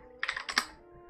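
Brief burst of computer keyboard typing in a Krita digital painting tutorial, a few quick close clicks followed by a firmer keypress like the Enter key, quiet and without talk.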